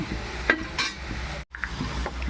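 Potatoes frying in a pan for a crispy potato fry, with a steady sizzle under a few close spoon scrapes and stirring clinks, broken by a brief silent gap before the frying resumes.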